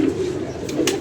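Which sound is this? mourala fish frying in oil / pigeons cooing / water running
pigeons cooing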